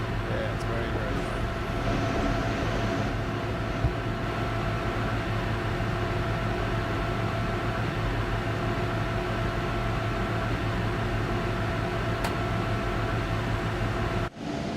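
Steady, loud rumbling drone fills a train cab in Train Sim World 4, with a constant low hum and broadband roar continuing without break before cutting off abruptly at the end.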